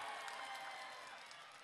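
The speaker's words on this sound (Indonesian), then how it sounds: "Iya, semuanya tepuk tangan." Audience applause at a political speech in Indramayu, a dense wash of many hands clapping, faint and distant, steady across the short stretch with a slight fade toward the end.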